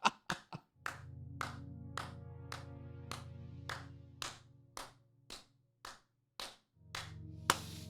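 Hands clap in a slow, regular rhythm, about a dozen crisp sharp claps spaced roughly half a second apart, close and clear over a faint low hum, with no speech.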